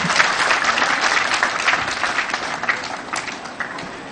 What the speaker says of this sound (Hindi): भरपूर तालियां लगा।